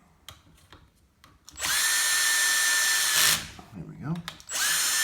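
A power drill whines loudly in sustained bursts while driving screws into a Losi 5ive-T RC car chassis, with a close, rising motor pitch, brief ratcheting stops and someone speaking in between.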